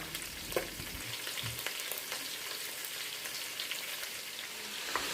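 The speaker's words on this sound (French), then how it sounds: "Je les fais revenir donc dans l'huile aussi pour les faire dorer." Onions fry in oil for a Senegalese niébé dish, giving a quiet, continuous crackling sizzle with scattered pops and a few soft stirring knocks, heard alone without speech.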